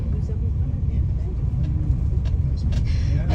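Tour car driving through Camps Bay in Cape Town, a steady low road rumble and engine hum that runs throughout, with a voice talking over it.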